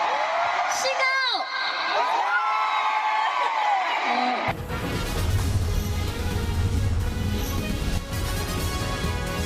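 Crowd of K-pop fans at a fan concert, first with high whoops and screams, then a dense, loud wall of cheering and shouting from a large audience that continues to the end.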